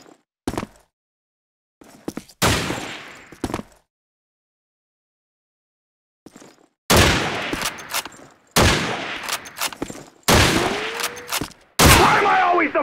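Bursts of gunfire ring out in a 1vs1 shooter match, loud separate volleys and sharp shots split by silent gaps, growing more frequent toward the end.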